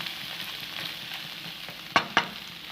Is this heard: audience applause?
no